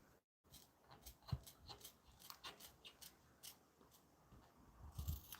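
Scissors snip through material while trimming a flap. Repeated crisp cuts run at an uneven pace, close up and moderately quiet, with no voices.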